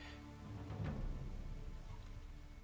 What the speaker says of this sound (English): having that kind of quality sound of the rain, it's really cool